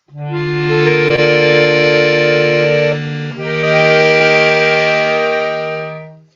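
An accordion and a cello sustain bright, full chords together, close and loud, holding one chord before shifting to a new one about halfway through, with no talking.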